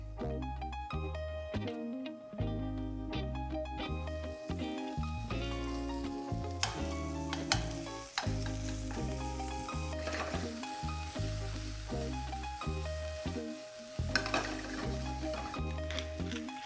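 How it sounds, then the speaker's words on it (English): Diced extra-thick-cut applewood smoked bacon and potatoes fry in a pan with a steady loud sizzle, while a utensil repeatedly stirs and scrapes in a rhythmic pattern close by. "dice up your applewood smoked bacon, extra thick cut is preferred, and add it to the potatoes as well to fry up"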